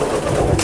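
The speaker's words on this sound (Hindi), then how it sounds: "ये 2 रामपुरी कबूतर बैठे हैं" Rampuri pigeons coo softly at a loft, a short low murmuring call up close against steady background noise.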